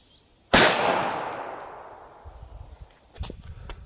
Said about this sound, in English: Glock 42 HST bonus shot.